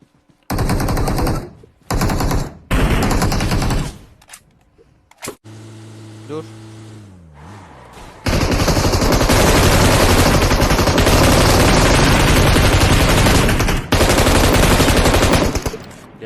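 Bursts of rapid automatic gunfire in a video game come in several loud volleys, separated by brief pauses, with an engine hum in between and voices talking.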